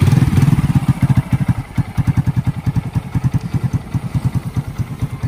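A freshly repaired, welded and repainted motorcycle runs close by with a steady, even thumping beat of its engine, a rhythmic chugging idle that continues without pause.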